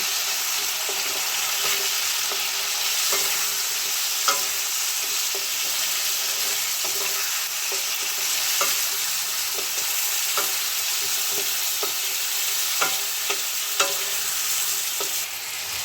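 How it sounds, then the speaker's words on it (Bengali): Chopped onion frying with lightly fried potato in a pan, a constant close sizzle broken by repeated scraping clicks of a spatula stirring. "একটা বড় সাইজ পেঁয়াজ কুচানো দিয়ে দেব।"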